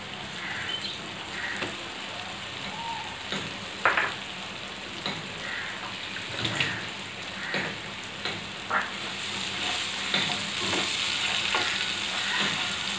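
Mustard paste with cumin and coriander powder sizzles in a pan for hilsa fish curry, a continuous crackling fry broken by sharp scrapes and taps of a stirring spoon, close up with no talking.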